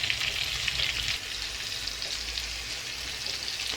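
Crab pieces frying in a pan give a steady, close sizzle of bubbling oil that runs unbroken and fairly loud, with no talk over it.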